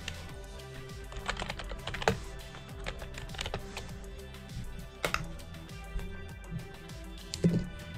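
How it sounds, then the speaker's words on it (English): Typing on a computer keyboard at a desk, a quiet, close run of irregular key clicks with a few louder taps, no speech. "I'm gonna move this keyboard over because it is easier to type off to the side with one hand."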